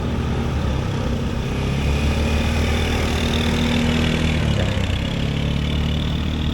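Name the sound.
ATV engine idling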